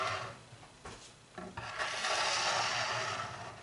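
A trowel scrapes and drags across epoxy on a marble countertop: a few short rasping strokes, then one longer continuous smearing scrape, close and fairly quiet.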